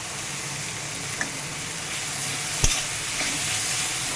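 Carrots fry with turmeric and a little salt in a pan, giving a steady close sizzle with a couple of faint clinks from stirring and no talk.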